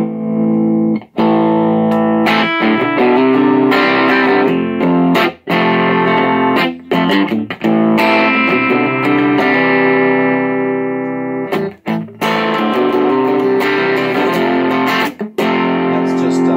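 An electric guitar through a Yamaha THR5 practice modelling amp on its crunch setting with gain fully up rings out in distorted chords and sustained notes, loud and close, with brief gaps between phrases and no added reverb.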